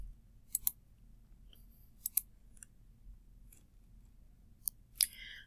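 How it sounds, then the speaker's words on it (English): Computer mouse clicks come in sharp, crisp pairs, about four separate clicks spread over a few seconds against a near-silent background. "I'm going to go ahead and just click on one here."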